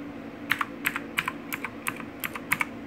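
Keys pressed on a Philips G400 SPK8401B mechanical keyboard, seven or eight crisp separate clacks at an even unhurried pace, close and clear over a low background hum.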